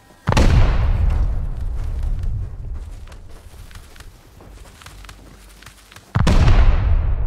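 Beancan grenades go off in the survival game Rust during a raid, with a loud blast at the start and another near the end, separated by quieter game noise and clatter.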